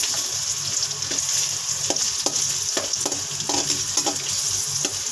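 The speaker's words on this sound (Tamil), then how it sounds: "அப்புறம் பன்னீர் வந்து நல்லா நெய்யில் நல்லா வறுக்கணும் இல்லையா?" Paneer pieces frying in ghee sizzle steadily throughout, with scattered sharp crackles and pops rising over the continuous hiss of hot fat.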